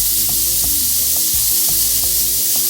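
A spoonful of butter melting in a hot pan for mac and cheese, a steady close sizzle with faint clinks of a utensil against the pan.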